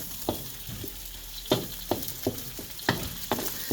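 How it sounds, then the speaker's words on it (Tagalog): Food sautéing in a home kitchen pan sizzles steadily while a utensil stirs, giving a series of sharp scraping clicks at irregular intervals, close and without talk. "Ang tawag dyan, gisa nay, gisa."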